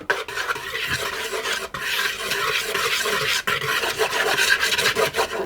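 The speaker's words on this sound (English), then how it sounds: "I'm going to give those a good stir around with a whisk" A whisk stirs flour and baking soda in a bowl, making a continuous close, brisk scratchy swishing with quick rhythmic strokes and a couple of brief knocks against the bowl.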